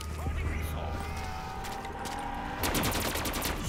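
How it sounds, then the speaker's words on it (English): Rapid automatic gunfire from the Call of Duty zombies map Gorod Krovi, a loud burst of repeated shots breaking in near the end after a stretch of game ambience and sound effects. "Stop shooting!"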